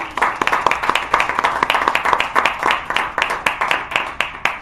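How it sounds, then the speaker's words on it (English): A small audience claps for Mark at a live show, with distinct, rhythmic individual claps in a steady brisk patter, fairly close and clear, without talk over it. "Everyone, give a round of applause for"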